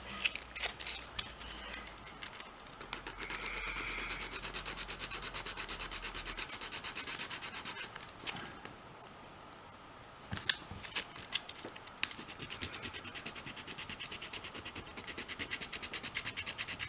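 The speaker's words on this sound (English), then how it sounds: "so I'm just going to do that with a little bit of sandpaper." Sandpaper rubbing on a small plastic Sega Master System controller D-pad part, a quiet, steady scratchy rasp of back-and-forth strokes close up, with brief pauses between bursts.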